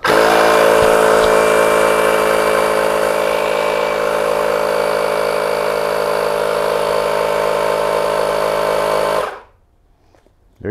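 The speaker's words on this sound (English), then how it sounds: "this just screws into the Schrader valve, kind of like a high-end bicycle pump. And I believe all you do is hit go." An electric tire inflator pump runs loud and close while filling a race kart tire through a Schrader valve, a steady mechanical drone that cuts off abruptly near the end.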